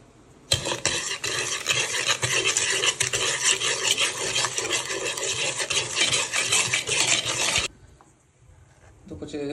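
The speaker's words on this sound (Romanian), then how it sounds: "Acum o să amestecăm ouăle separat, să facem crema cu zahărul" Eggs being beaten with sugar for a cream filling in a home kitchen, a steady, busy scraping and stirring that runs close and loud for about seven seconds, then stops abruptly into near quiet.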